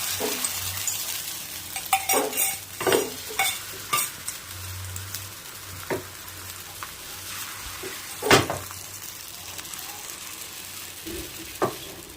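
An omelette fries in a pan of oil, with quiet steady sizzling under scattered sharp clinks and scrapes of a spatula against the pan, a few louder knocks standing out.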